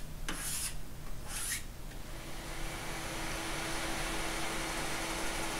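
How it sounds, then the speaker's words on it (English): Steady abrasive rubbing of steel wool against wood on a vintage Arthur Hensel guitar, a continuous scratchy rasp with a couple of brighter strokes near the start, close up with no talking. "Then some 40 steel wool and then some lemon oil."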